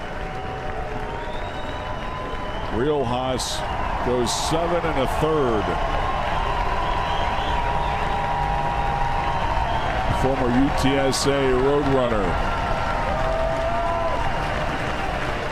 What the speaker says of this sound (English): We'll get a standing applause from the Burnt Orange.